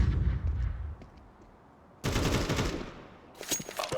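Bursts of explosive gunfire-like blasts from flashbangs and grenades in a shooter video game, a loud opening boom, then a sudden harsh wideband blast at two seconds and another crackling burst near the end, with no talk.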